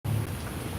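Steady rain falls outdoors near a downtown Austin hotel, a continuous dense wash that starts abruptly and stays loud and even throughout, with no voices.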